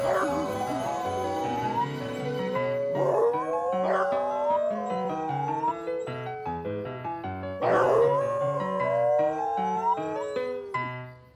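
Cartoon dogs at a dog park howl and yip with rising, wavering cries over bright, stepping background music, in two bursts of activity. Moderately loud throughout.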